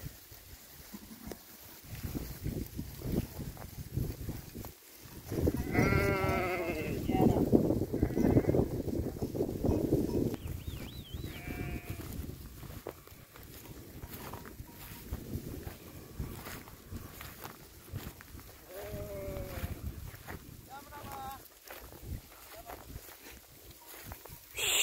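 Qaradolaq sheep of the Beyləqan strain, part of a 600-head flock offered for sale, bleat in a few wavering calls over steady outdoor wind noise, some close and loud and others fainter, with brief quiet stretches between.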